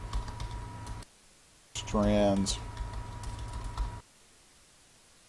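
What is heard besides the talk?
typing on a computer keyboard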